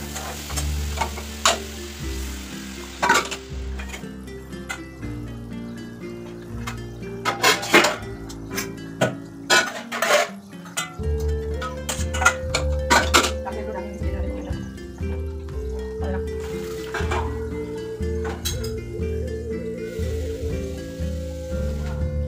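Fried soybean chunks cooking in a pan with vegetables and salt, with clinking of a utensil against the pan, scattered stirring knocks and a soft sizzle running underneath.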